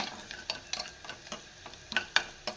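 Dal being stirred and poured into hot sizzling tempering with garlic, a soft frying hiss punctuated by scattered spoon scrapes and sharp crackles, quiet and close, with no talk.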